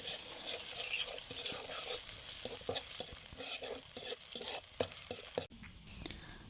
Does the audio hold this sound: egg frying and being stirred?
yes